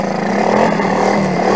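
A small quad bike engine revs steadily and loudly nearby, a continuous droning roar with a slight rise and fall.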